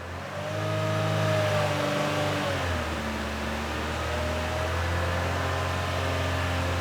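A car engine with a cam phaser fault holds a steady mid-level hum, then its tone eases downward as it comes back from about 3000 RPM. It sounds continuous and fairly close, with no talk over it.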